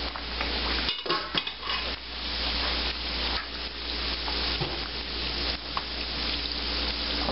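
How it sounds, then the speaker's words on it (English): Battered chicken fried steak frying in hot oil makes a continuous busy sizzle, with a few metal clinks of utensils and pans over it. "Put that right down in your hot oil."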